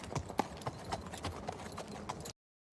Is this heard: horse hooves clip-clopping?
yes